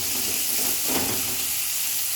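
Hot oil sizzles steadily in a kadai ready for frying onions, with katla fish oil and plain white oil; a continuous close hiss and crackle with no talking.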